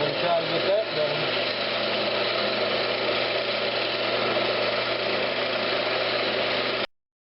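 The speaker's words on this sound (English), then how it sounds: "I'm going to switch over to my 3/8 gouge and try to get that done" A lathe spins steadily as a 3/8 gouge cuts a walnut hollow form, giving a constant motor hum with a rougher cutting texture, then stopping abruptly near the end.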